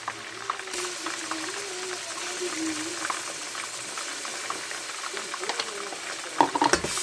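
Chilli powder and ginger garlic paste being stirred in a pan for mutton biryani, with a soft continuous sizzle and bubbling under slow scraping strokes, then a few sharper clatters near the end.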